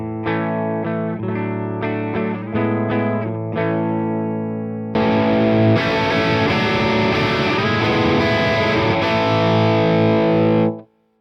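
Electric guitar played through a Soldano SLO Plus amp-in-a-box pedal on its clean channel: a few picked chords ring out, then a denser strummed passage sustains loud and steady before cutting off sharply, with no talking.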